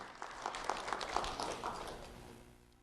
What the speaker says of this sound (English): Round of applause for Brindley Tarn.